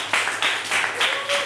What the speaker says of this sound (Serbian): Ajmo jedan aplauz.